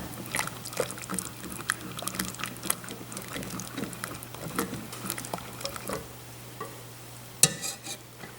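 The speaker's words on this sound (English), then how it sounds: "So we're going to stir it, keep stirring it, and let it boil for about a minute." A spoon stirs a thick milk sauce in a pot with soft, repeated scraping and gentle bubbling as it boils, close and quiet, ending with a sharper clink.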